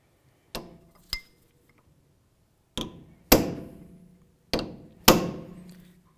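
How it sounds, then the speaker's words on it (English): Hammer blows on a punch staking the axle nut of a 2011-2016 Hyundai Elantra front hub: six sharp metallic strikes in uneven pairs, the later ones louder and ringing briefly, close up with no talk. "The way that we're going to do that is with a hammer and punch"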